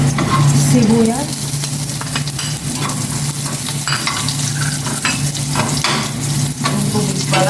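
Onions fry with a loud, steady sizzle in a pan, stirred with a utensil that taps and scrapes against the metal now and then, heard up close with no voices.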